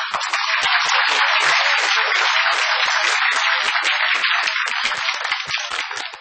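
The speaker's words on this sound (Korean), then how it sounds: "지금 박수를 치셨는데 손이 얼얼하죠?" Dense, sustained applause from a studio audience of homemakers at a televised wellness exercise lecture, steady and loud throughout with sharp individual claps poking through, no voices.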